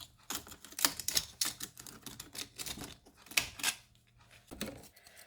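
Crispy dried navel orange slices tumble into a bowl in a series of dry, brittle clattering bursts, several quick rustling handfuls spaced across a few seconds, close and fairly quiet with no talking.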